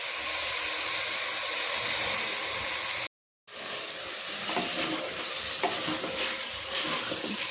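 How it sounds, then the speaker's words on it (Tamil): Chicken sizzles loudly in biryani masala as it is stirred. The frying hiss is steady, with scraping stir sounds, and breaks off once for a short moment. "சிக்கன் போட்டாச்சு"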